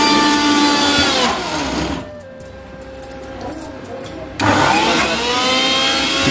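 A tractor engine turns over and runs, with a loud mid-pitched droning roar that drops back for a couple of seconds, then revs up again, close by.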